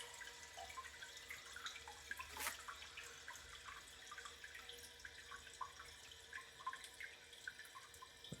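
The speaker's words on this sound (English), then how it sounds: "once the tank's done filling, actually it's almost done filling already" A 1961 Case lowboy toilet tank refills with water, a steady faint trickle and hiss of running water with a brief louder gush partway through, heard alone without talk.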